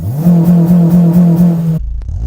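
Modified Acura RSX Type S with a Hondata reflash held on two-step launch control, a loud, steady stuttering engine rev sitting at the limiter for over a second before cutting off abruptly, close and with no talking.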